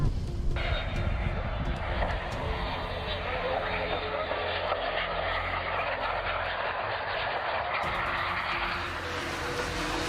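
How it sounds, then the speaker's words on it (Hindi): Airliner making an emergency belly landing without its landing gear onto a foam-sprayed runway, a loud steady engine roar that holds throughout, with a voice speaking over it. "पायलट ने एटीसी से कांटेक्ट करके रनवे पर फायर प्रूफ फोम का छिड़काव करवाया और इस एरोप्लेन को लैंड करने की कोशिश की"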